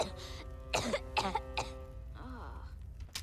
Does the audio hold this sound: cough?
yes